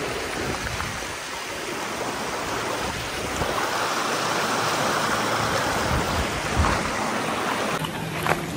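A small mountain river runs in a continuous broadband rush, steady and fairly loud throughout, with no voices, rising slightly in the middle before a brief change near the end.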